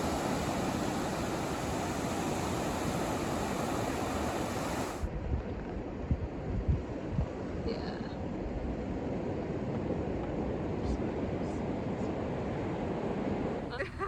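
Ocean waves wash onto the beach at Padre Island in a steady, dense roar of surf, with wind buffeting the microphone throughout and no clear break between swells.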